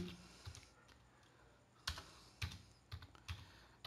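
Keys clack on a computer keyboard as an nmap command is typed, with a few separate keystrokes and short bursts of clicks close by and no talk.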